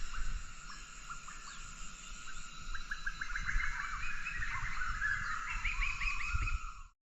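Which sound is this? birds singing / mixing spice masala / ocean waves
birds singing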